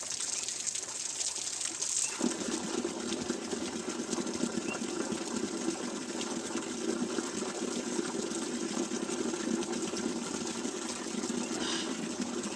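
Water from a natural mountain spring in an Uttarakhand village gushes steadily and close, a dense continuous splashing rush that grows fuller after a brief start and runs on alone without talk.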